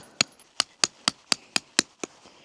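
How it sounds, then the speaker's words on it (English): Eight sharp, evenly spaced chops from a small toy hammer-axe at a campsite, each a crisp close strike with a short decay, about three per second. "We got our little toy hammer slash axe."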